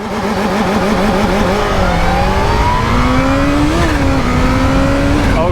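A Kawasaki Z H2 motorcycle launches hard with launch control on, its engine loud and close, revving up through rising, wavering tones with a shift-like dip, then pulling steadily onward.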